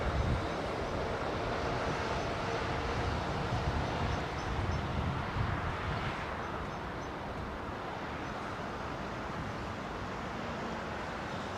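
An aircraft on final approach to runway 09L at London Heathrow, heard as a steady, broad engine roar that holds at a fairly even level from a distance, with no voices.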